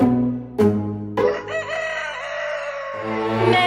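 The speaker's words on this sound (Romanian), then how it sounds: "Cucurigu." A cartoon rooster crows in a Romanian children's song, its call rising over the music's backing and sustained for a few seconds, loud and close.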